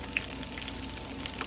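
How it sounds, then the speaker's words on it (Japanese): Oysters deep-fry in hot oil, a brief, steady bubbling hiss heard close up with a small pop near the start and no talking. "ということで揚げていきます"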